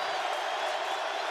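A Montana Grizzlies home football crowd roars during an FCS playoff game against South Dakota State, a steady, dense wash of cheering and applause from a large stadium audience with no break.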